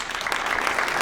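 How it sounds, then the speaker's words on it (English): Audience applause for the students at a climate education summit, a steady dense wash of clapping from a crowd, fairly loud and continuous through the short burst. "If we can give another round of applause to the students."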